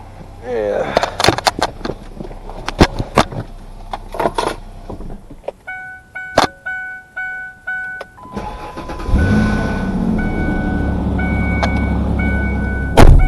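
A 2001-2005 Ford Explorer Sport Trac truck engine cranks and catches after sitting for a few days, settling into a steady close idle, preceded by key and door clatter and brief speech.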